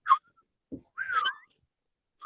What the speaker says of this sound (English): I'm getting real good at whistling with no hands.